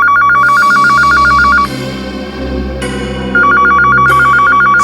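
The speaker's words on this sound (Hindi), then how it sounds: "ये फोन की घंटी बिल्कुल सही टाइम पर बजी नहीं श्रेया?" A telephone rings in repeated electronic trills, two bursts separated by a short pause, loud and close with a faint low hum beneath.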